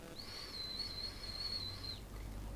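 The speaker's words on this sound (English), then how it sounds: "My breathe sounds like a whistle." A thin, high-pitched whistling tone of a person's breath rises and holds for about two seconds, close and quiet, like air squeaking through a narrow passage, then stops.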